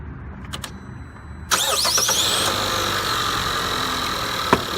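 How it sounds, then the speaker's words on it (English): A car with a dead or missing battery cranks briefly after a couple of clicks and fires up using a Beatit G18 2000 amp 12V lithium-ion jump starter, then settles into a steady close idle with a faint click near the end. "you can actually start your car with a dead battery or no battery pack"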